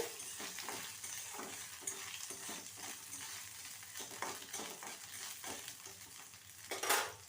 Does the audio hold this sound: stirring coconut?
yes